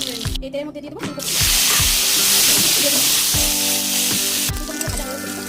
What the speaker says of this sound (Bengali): এই তেলের মধ্যে দিয়ে দেবো ফুলকপি